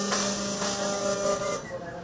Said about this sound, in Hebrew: ובואו נעבור למדפסת השנייה, שזה השקה העולמית שלנו, שמדפיסה דג.